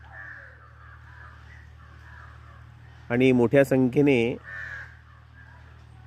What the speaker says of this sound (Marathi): कंप्लीट ब्लॅक कलरची जी कावळे आहेत ते या ठिकाणी पाहायला मिळतात.